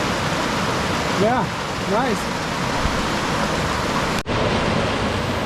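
Steady rushing flow of Ramey Creek, a mountain stream, fills the scene as a constant broadband wash, with a brief spoken remark over it.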